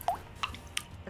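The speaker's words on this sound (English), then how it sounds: "the dripping water is so loud" Water drips in a video game: three separate wet plops land at uneven intervals, close and clear over a faint background hum.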